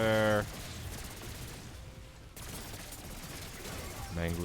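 Rapid bursts of gunfire while shooting zombies in Black Ops 6 Zombies, a dense crackling barrage at the start and again at the end with game noise in between.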